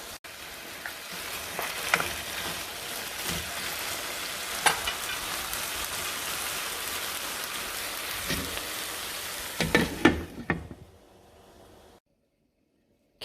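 Squash calabacitas cooking covered in a pan over medium heat, a steady, close sizzle and crackle like light rain with occasional louder pops, then cutting out to silence near the end.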